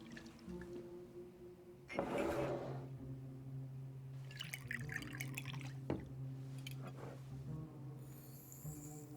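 Liquid is poured in a few short, faint splashing bursts, with gurgles and drips over a quiet low hum.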